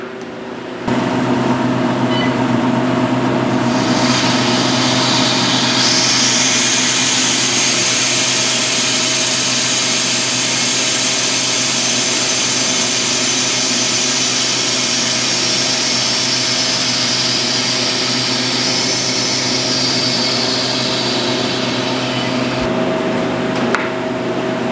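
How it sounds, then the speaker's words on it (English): Harvest Right home freeze dryer letting air rush back into its vacuum chamber after a batch of eggs, a loud steady hissing rush over a droning machine hum that holds for about twenty seconds before cutting off. "now we're going to release the vacuum, or actually the air, back into the chamber"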